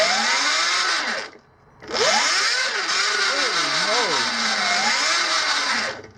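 A Sur Ron Light Bee electric motorcycle motor gives off a loud, high electric whine that cuts out briefly, then returns and rises and falls in pitch as the throttle and regenerative braking slow it, before trailing off at the end.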